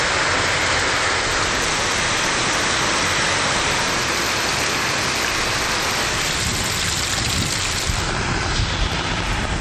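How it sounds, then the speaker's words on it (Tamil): Heavy rain pours down steadily in Chengam, Tiruvannamalai district, as a dense, unbroken roar that stays loud throughout, with no voices. "திருவண்ணாமலை மாவட்டம் செங்கம் சுற்றுவட்டார பகுதிகளில் கனமழை கொட்டி தீர்த்தது."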